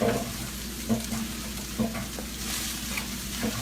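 Frozen rice fries with eggs in a pan for hibachi rice, giving a steady, close sizzle with a few soft scraping stirs and no voices.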